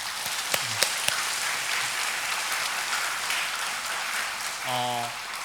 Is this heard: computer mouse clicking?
no